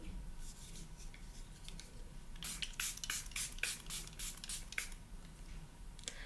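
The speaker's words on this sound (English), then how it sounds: "Now I'm using a little bit of setting spray" A series of quick, short bursts of makeup setting spray hisses close by, several rapid pumps in a row against a quiet room background.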